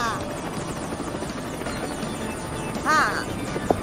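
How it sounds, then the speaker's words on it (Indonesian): A helicopter's rotor chops steadily in the background while voices talk over it, with a brief louder swell near the end. "Sebagai helikopter, kau bisa terbang di atas kanal."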